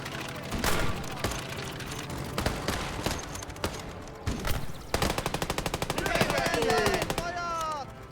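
Machine-gun fire and rifle shots in the Gates of Hell war video game crack in rapid, close bursts and single loud reports, with someone talking over the battle.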